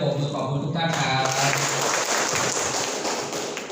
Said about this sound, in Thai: ปรบมือขอบคุณทุกท่านครับ